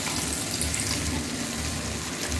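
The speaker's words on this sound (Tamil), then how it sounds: "தேவையான அளவு தண்ணி விட்டுக்கோங்க" Water running steadily into a cooking pan while making Tamil-style tomato rice, a continuous close splashing with a faint sizzling edge, no voices.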